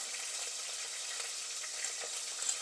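Garlic cloves, curry leaves and green chillies frying in hot oil for a crab masala, a steady, fairly quiet hiss of sizzling with faint crackles, close by and without talk.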